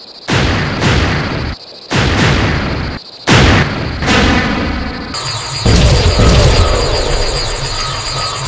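Artillery-style gun fire in a War of the Worlds audio drama, heard as several loud booming bursts separated by short silences, then a sustained roaring rumble of smoke and chaos to the end.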